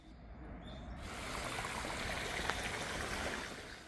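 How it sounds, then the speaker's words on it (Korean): Water in a stream runs through a large forest garden in central Seoul, a soft, steady trickle and flow that stays faint and even throughout, with no talk. "시원한 물소리가 도시의 소음을 완벽하게 지워주고 있습니다."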